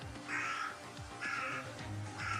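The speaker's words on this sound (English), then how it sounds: "that bird is incredibly loud." A loud bird calls outdoors with three harsh, crow-like caws spaced evenly about a second apart, over a low background hum.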